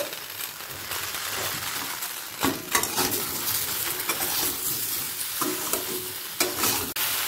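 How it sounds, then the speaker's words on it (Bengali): Vegetables frying in a pan as salt and turmeric are stirred in, a continuous close sizzle broken by scraping strokes and a few sharp metallic clinks of the spoon against the pan. "লবণ আর হলুদটা সবজির সাথে মিশিয়ে নেব।"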